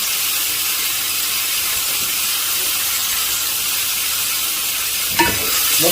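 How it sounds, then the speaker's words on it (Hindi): Mutton pieces frying with light-browned onions for Afghani Kabuli pulao, a loud, steady broadband sizzle with scraping stirs throughout and a sharper clatter near the end. "मटन को आपने बहुत अच्छी तरह भून लेना है।"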